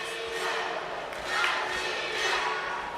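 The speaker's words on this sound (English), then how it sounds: "The crowd's cheering Russia" A fencing crowd at the 2019 World Championships women's foil team final in Budapest cheers for Russia, a broad wash of distant voices swelling in two waves.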